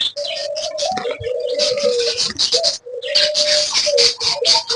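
Budgerigars in a cage chirp and warble rapidly and almost continuously, close by, with a brief pause midway before the chatter resumes.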